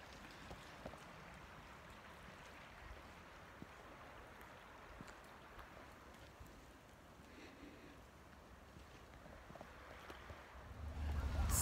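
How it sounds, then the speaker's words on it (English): A river stream flows steadily near a swinging bridge in the woods, a continuous broadband wash of water that holds at a moderate level throughout and swells slightly louder at the very end. "Love the sound of the river."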